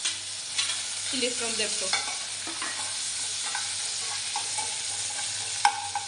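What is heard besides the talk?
oil frying fenugreek leaves, chillies and onions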